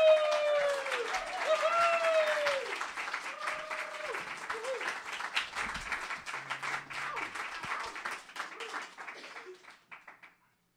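A poetry-reading audience at North of Invention applauds to welcome poet Jordan Scott, a steady, dense clapping that carries on for about ten seconds before fading out, with a few faint voices mixed in.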